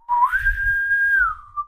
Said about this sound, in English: When you hear from the crow's nest, you hear the whistle of the lookout